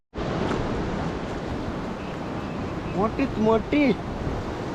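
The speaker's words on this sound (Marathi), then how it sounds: "तोच हा धबधबा आहे जो की वरून येतोय आणि खाली पाण्याचा वेग वाढतोय" A large waterfall at Harishchandragad fort pours with a steady, broad roar of rushing water nearby, while someone speaks briefly over it.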